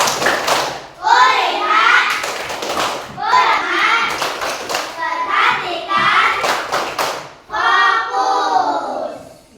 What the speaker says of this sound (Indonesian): Sekarang tepuk fokus.